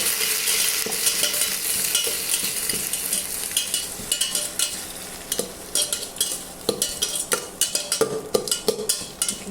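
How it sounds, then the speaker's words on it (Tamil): Chicken curry being sautéed and stirred in a kadai, with a steady sizzle and frying hiss under repeated scraping strokes of a spoon against the pan, close and fairly loud, with no talk. "நல்லா வதங்கணும் நல்லா வதங்கட்டும்"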